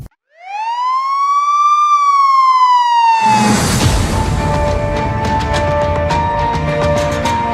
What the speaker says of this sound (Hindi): पुलिस सायरन बजाती हुई रायपुर की गलियों पर गश्त हो रही है